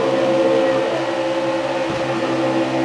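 Race car engine held at full throttle in NASCAR Heat 4 during a night Xfinity race at Daytona, a loud steady drone with a continuous high whine lasting throughout, no talking over it.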